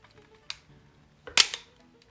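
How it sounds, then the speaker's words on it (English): An airsoft gun fires with a sharp, close snap: a small click first, then one louder crisp shot, with no talk. "when we fire, then on this pipe, there you see it, and there it goes"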